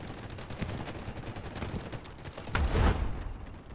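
Sniper rifle fire in the battlefield shooter video game Delta Force, a couple of sharp cracks over a busy background of distant gunfire, with one heavier, louder report near the end.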